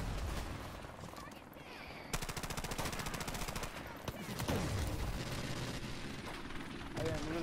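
Gunfire in Call of Duty 3: bursts of rapid automatic shots crackle through the mix, with mechanical clatter and scattered single reports between them, loud and close, then trailing into further firing.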